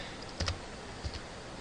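Typing on a computer keyboard: a quick cluster of two or three close, soft key clicks, then another short pair a moment later, over a faint steady background hiss.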